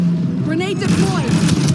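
A grenade going off in the multiplayer shooter Star Wars Battlefront 2, a deep rumbling boom that swells and rolls on with a sweeping sci-fi whine over it, loud and close with game effects layered throughout.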